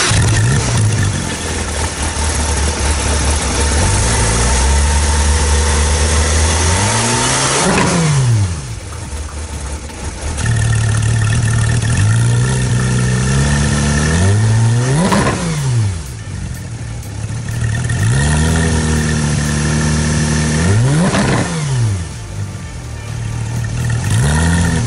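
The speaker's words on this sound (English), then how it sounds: "it makes that great Porsche sound" A 2018 Porsche 911 GT3 with sport exhaust idles close by and is revved repeatedly, each blip rising sharply and falling back to a loud, steady idle.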